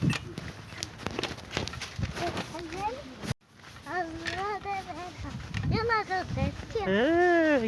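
Horse whinnies ring out repeatedly with a rising and falling tone, heard close and fairly loud, mixed with people talking on a farm road.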